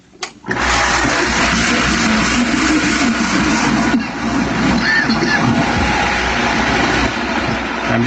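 A blender starts up on a low setting to mix sesame seeds for a raw carob, sesame and coconut malt drink, a loud steady whirring roar that holds for about seven seconds after a brief start.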